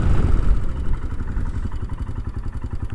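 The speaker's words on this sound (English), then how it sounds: "Can you all hear the engine?" A Royal Enfield Himalayan fitted with a big bore kit rumbles at low revs, its single-cylinder thump settling into a steady, close putter of pulses after a brief heavier surge at the start.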